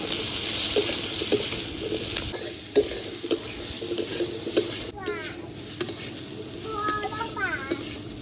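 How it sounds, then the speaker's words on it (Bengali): Potato and pointed gourd (kakrol) frying in a pan with turmeric, salt and slit green chilli, a steady sizzle under repeated stirring and scraping scrapes, with a voice talking over it. "একটু লাল লাল করে আমি কিন্তু আলু আর কাঁকরোলটা কিন্তু খুব ভালো করে আমি ভেজে নিয়েছি"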